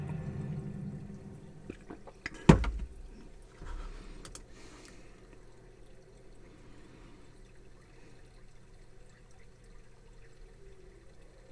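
Water pours and trickles in a World of Warcraft pet battle, a soft, steady liquid flow with a sharp clunk near the start and low background sound throughout.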